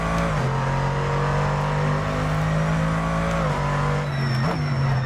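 A GT2 race car engine in a racing video game revs hard and steady, its pitch climbing and briefly dipping between gear changes, loud and close with no voices over it.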